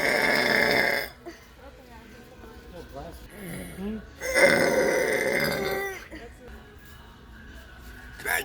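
Two long, loud, rumbling burps, one at the start and a second midway, with softer vocal noises and voices between them.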